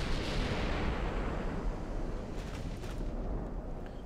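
Heavy 15-inch naval guns roar in the warship battle game Ultimate Admiral: Dreadnoughts, a dense, sustained low rumble of artillery with a long booming tail, no voices.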